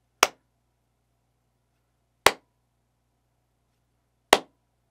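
Three isolated hand claps, evenly spaced roughly two seconds apart, in a home studio draped with moving blankets; each is crisp and near, dying away quickly over a low background hum.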